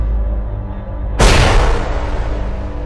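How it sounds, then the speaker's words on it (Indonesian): A loud explosion effect hits suddenly after a low rumbling drone, a single heavy boom whose roar lingers and slowly fades, with no voices. "terjadi suara ledakan yang sangat besar"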